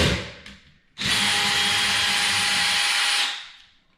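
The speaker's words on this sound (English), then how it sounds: "You just take your drill" A power drill removing a screw from a spa tub access panel whirs at a steady high pitch for about two seconds, starting abruptly and winding down at the end, close by.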